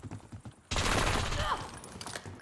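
Heavy gunfire in the Black Ops 6 video game, a sudden dense burst of shots that keeps rattling on in a sustained fusillade with a voice underneath.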